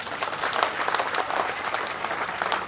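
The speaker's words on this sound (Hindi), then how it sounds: "ताली थोड़ी देखो रामगढ़ स्टाइल में जोरदार बजाओ।" Crowd at a BJP political rally in Alwar city, India, claps loudly and steadily throughout, a dense continuous applause with no voices standing out.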